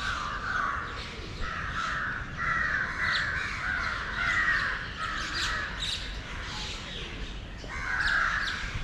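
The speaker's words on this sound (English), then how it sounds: "Look at all these crows." A flock of crows caws repeatedly during a morning walk in Pune, India, with harsh overlapping calls coming in waves over a dull street rumble, moderately loud and close, with no talking.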